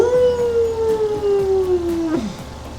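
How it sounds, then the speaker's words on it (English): A loud, sustained howl from a pack of wolves in the video game Hooked On You, a single long tone sliding slowly downward for about two seconds before breaking off, with faint harmonics above and no talking. "together we all howl"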